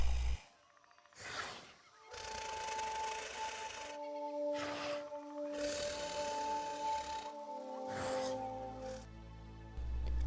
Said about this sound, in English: spiders snore